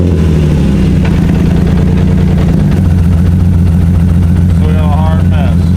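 A car engine idles with a misfire, a loud, close, low rumble with an uneven note that shifts partway through. Voices talk over it.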